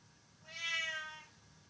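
A single clear cat meow, rising and falling over about a second, close by in a quiet room.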